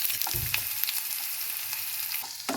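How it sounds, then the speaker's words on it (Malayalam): Curry leaves, sliced shallots and dried red chilies frying in hot coconut oil for a rambutan curry, a crackling sizzle up close with a low thump near the start and a spoon stirring through it. "കറിവേപ്പിലയും അരിഞ്ഞിരിച്ച കുറ്റുള്ളിയും വറ്റൽമുളകും കൂടെ ചേർത്ത് നന്നായിട്ടൊന്ന് അയറ്റി കൊടുക്കണം"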